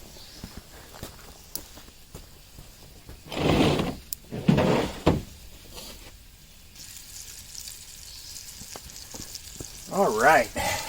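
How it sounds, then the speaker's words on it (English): Crumbled sausage sizzles softly in a frying pan, a faint, steady hiss beneath footsteps, a few clanks and bits of talk. "We're going to let that sizzle."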